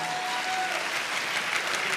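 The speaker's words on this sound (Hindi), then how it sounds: "मैं चाहूंगा एक बार जोरदार तालियां।" Seminar audience breaking into hearty applause, a sustained bright patter of many hands clapping at moderate volume, with a faint tonal note early on.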